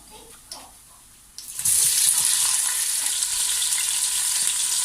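Sliced onions hitting hot oil with whole spices for a Hyderabadi-style boneless Chicken 65 biryani, a sudden loud sizzle that settles into a steady, close hiss after a few quiet kitchen clatters.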